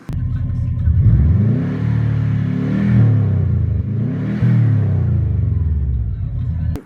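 Inside a 2016 Subaru Legacy GT at wide open throttle, the turbocharged engine roars loudly and rises in pitch, drops at a shift around the midpoint, then climbs again in a second pull.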